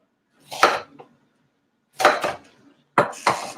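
Three separate crisp knife cuts through watermelon on a board, each a short sharp crunch with a brief tail, spaced about a second apart with quiet gaps between.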